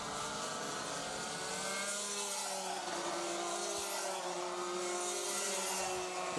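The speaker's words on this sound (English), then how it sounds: "Kakers just turning in a little bit early for the hairpin just to dissuade Zernas from going for the overtake" Several race cars in a rallycross-style round in Latvia brake and turn into a hairpin, engines droning and revving at a steady distance with faint tire scrub, a continuous layered motor roar without voices.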